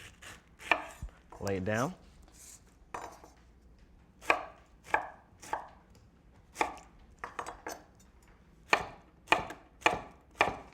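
A knife chops through pineapple on a cutting board in a series of sharp, close strokes, some in quick bursts and others spaced apart, with a brief spoken line near the start.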